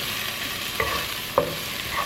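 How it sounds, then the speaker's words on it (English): Shallot and thyme sprigs fry in a pan, giving a steady close sizzle with a couple of sharp spoon clicks as the mixture is stirred around, no voices. "We're just gonna drop that in there and kind of stir it around."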